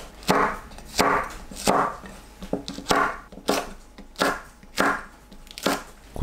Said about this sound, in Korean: 파와 청양고추를 어슷 썰어 준비합니다.